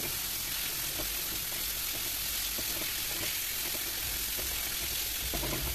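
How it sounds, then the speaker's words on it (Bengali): Catfish curry masala sautéing in a pan, a steady dense sizzle with soft stirring scrapes running throughout, close and fairly loud with no voices. "এবার এটাকে সব কষিয়ে নিচ্ছি ভালো করে"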